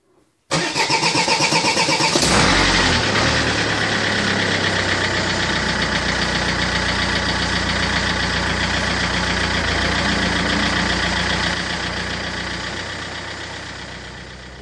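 A Renault Laguna 2 engine, just fitted with a new timing belt, tensioner and coolant pump, cranks briefly and catches, then settles into a steady, even idle that eases slightly toward the end, heard close and alone.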